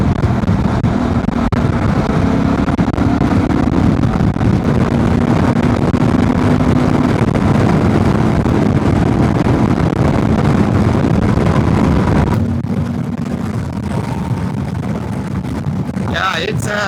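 A Honda Transalp 750 motorcycle with a remapped ECU accelerates in fourth gear, its engine drone rising steadily under heavy wind rush for most of the run before easing off near the end, with a rider talking over it.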